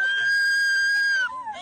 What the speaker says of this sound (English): They were screaming as their mother was taken away to a federal detention center.